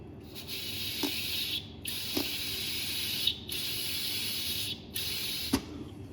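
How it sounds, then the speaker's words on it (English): Air blown in bursts through a hose on a 1971 VW Bus, air-cooled engine, giving a breathy hissing rush, four breaths separated by short pauses, close and fairly quiet. "So you can hear now, I can actually blow through that"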